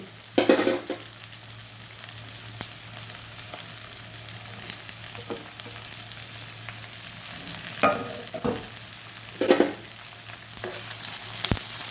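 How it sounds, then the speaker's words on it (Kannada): Chopped onion and green chilli sauté in hot oil with lentils, a steady soft sizzle running throughout with several sharper scraping stirs of a spoon in the pan, close and moderately loud, no voices. "ಒಂದು ಎರಡು ನಿಮಿಷ ಬಾಡಿಸ್ಕೊಳ್ಳಿಕ್ಕೆ"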